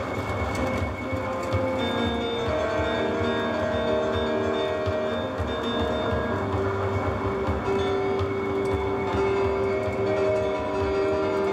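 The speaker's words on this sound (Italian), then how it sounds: "Iniziò a raccontarla dal rumore di un treno." A train in a film rumbles steadily and loudly throughout, its low rolling rattle overlaid by long, drawn-out tonal squeals or horn-like notes.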